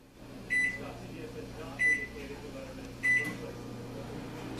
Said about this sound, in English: we take the milk that we poured and we stick it in the microwave